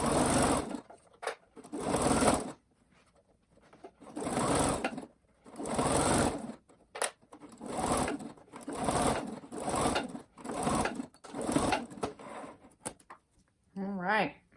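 A sewing machine stitches a slipper seam in about ten short bursts of rapid, steady whirring separated by brief pauses, with a voice heard at the end.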